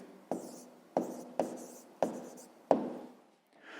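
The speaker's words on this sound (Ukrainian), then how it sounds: "Записуємо тоді відповідь і записуємо 300 гривень." Pen on paper writing down a math answer by hand, five short scratchy strokes in an even rhythm, close and quiet with no talk.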